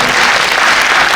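A brief burst of dense audience clapping at a Jersey City community redevelopment meeting, loud and even for about a second.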